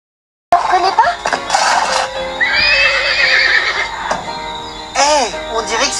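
A horse on a ranch whinnies loudly in a long, wavering neigh, with hooves clip-clopping and a few voices in the background.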